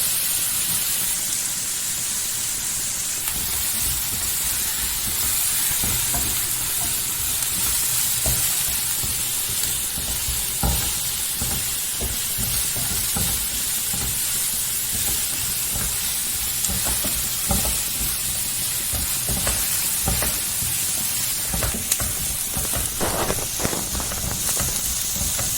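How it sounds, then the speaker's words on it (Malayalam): Chopped vegetables for a potato curry sauté steadily in a hot pan, a continuous loud sizzle with scattered stirring scrapes and clicks throughout, no voices. "ഇത് ചുവന്ന് നിറാവുന്ന വരക്കും നല്ലോണം വാട്ടുക."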